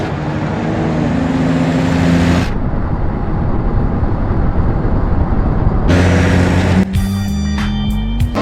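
Simulated Ford Explorer driving and crashing in BeamNG.drive: a loud, steady engine and road roar with no talk, a sudden drop in the sound partway through, then the roar returning and ending in a burst of sharp crash clatter.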